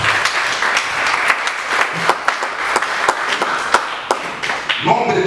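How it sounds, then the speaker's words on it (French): A church congregation claps steadily throughout, a dense, even patter of many hands close by with a few sharper individual claps standing out, and no speech over it. "Acclamons pour la voix du Seigneur."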